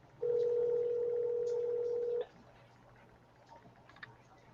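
Phone ringback tone from an unanswered outgoing call, one long steady tone of about two seconds, fairly clear over faint background noise, followed by quiet with a few light clicks.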